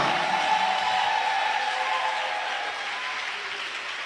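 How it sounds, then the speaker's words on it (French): Church congregation applauding, a dense wash of clapping that slowly fades over a few seconds. "Continue to clap, continue to Continue clap."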